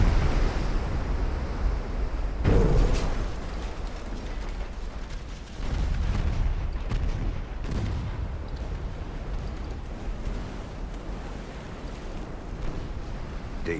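Main turrets of an 1890-era warship cooking off in Ultimate Admiral: Dreadnoughts: a sudden deep explosion, then a second heavy blast a few seconds later, over a constant roar of sea and rumbling battle noise.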